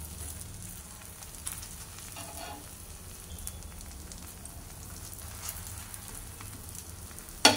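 Dhapate flatbread cooks on a griddle with oil and ghee, giving a soft, steady sizzle and faint crackle, with a few light clinks and a brief knock at the very end.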